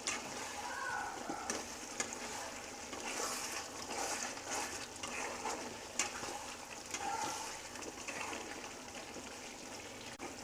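Village style chicken curry being stirred in a pot with plenty of released liquid, a continuous wet sizzling and scraping under high flame, close and moderately loud with soft clatters throughout.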